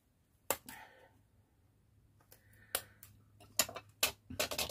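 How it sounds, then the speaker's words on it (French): Scissors snip at a plastic part of a mounting bracket being fixed to a building-block frame, giving several sharp clicks at irregular intervals that quicken toward the end, close and quiet. "Je vais m'aider de mes ciseaux."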